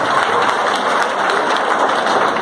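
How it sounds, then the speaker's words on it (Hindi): Steady, dense applause from a large seated crowd at a business meeting in Dausa, a loud continuous wash of hand claps with no pauses and no voices over it. "उनका जोरदार तालियों से स्वागत करते हैं।"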